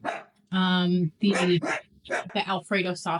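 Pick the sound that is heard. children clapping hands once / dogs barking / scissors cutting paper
dogs barking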